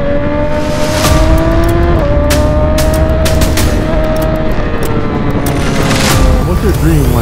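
A group of superbikes, including BMW S1000RR, Suzuki GSX-R and Kawasaki ZX-10, along with Harley-Davidson motorcycles, rolling out together: loud, continuous engine roar with rising revs and sharp exhaust pops throughout, close to the listener.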